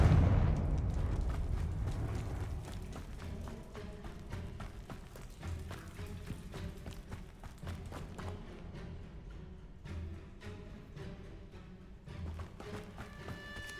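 A Confringo fire spell bursts in Hogwarts Legacy with a loud, deep blast that swells into a long rumbling, crackling tail. Scattered thuds and taps follow as the roar slowly fades.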